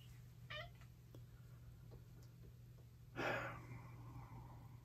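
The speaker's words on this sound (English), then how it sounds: "And that's my cat, who will not leave me alone today." A house cat meows twice close to the microphone, a short cry and then a longer, drawn-out one, over a steady electrical hum in a quiet room.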